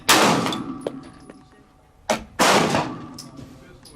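Two loud, sharp Walther PPQ pistol shots fired from a Ransom Rest, about two seconds apart, each cracking hard and then ringing out in a decaying echo, with a fainter metallic clang between them.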